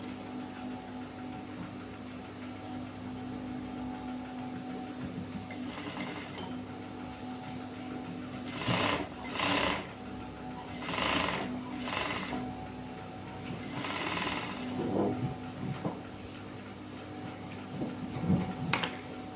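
A sewing machine stitching a kebaya garment hums quietly in a room, broken by several short bursts of rapid mechanical stitching that grow louder and then stop, with no talking.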